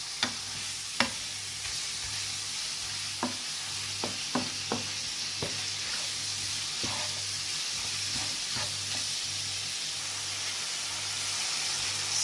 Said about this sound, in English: Smash it down with your spoon like this to make it into finer pieces.